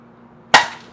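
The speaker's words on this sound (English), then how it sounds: "as soon as I tip it down, I'm gonna punch my thumb through it" A thumb punches through the side of a beer can, giving one sharp, loud pop midway through with a brief fizzing tail, followed by a faint knock or two in an otherwise quiet room.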